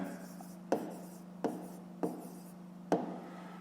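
A pen or chalk writes an answer by hand in a steady quiet setting, producing four sharp taps and short scratching strokes spaced roughly a second apart over a low electrical hum.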